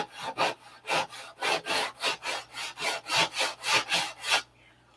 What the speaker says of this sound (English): I'm listening to how the sandpaper sounds. That means I'm getting all the white glue out when the sound goes dead.